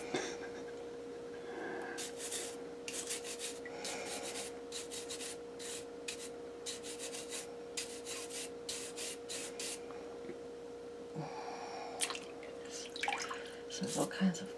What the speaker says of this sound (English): So this is the last time I can use one of the rougher bristled brushes.